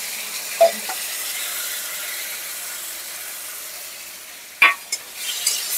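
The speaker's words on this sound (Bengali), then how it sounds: "সব মশলার সাথে একসাথে খুব ভালো করে নেড়ে চেড়ে নেব।" Spice paste of coriander, cumin, chili and turmeric frying with ridge gourd and eggplant, a soft steady sizzle broken by a couple of sharp clinks of a spoon stirring against the pan, no voices.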